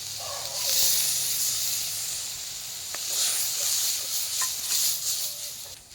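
Onion paste with garlic and ginger paste hitting a hot pan for a Bengali crab curry, giving a loud, broad hiss that swells, eases and swells again, with a few faint clinks and no voices.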